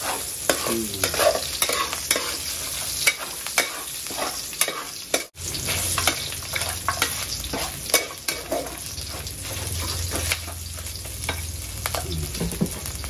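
Oil sizzles and crackles steadily in a pan while ginataang kamansi (breadfruit) is being fried, a continuous close hiss with stirring scrapes and one brief drop in the middle, no one talking.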